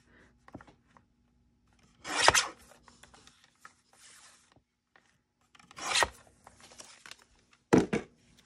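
Scissors cut up paper ephemera at a desk in three separate scratchy, rasping bursts, each a second or less long, with small rustles and taps in between and no talking.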